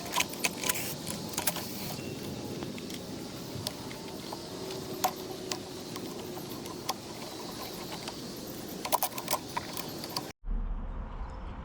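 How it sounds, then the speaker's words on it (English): An ECU being worked off the gearbox of a Yamaha Raptor 700 ATV, with close mechanical clicks, rattles and small metallic clatters over a steady background, ending in a sudden cut to near silence. "Now we're gonna pull it off the gearbox here."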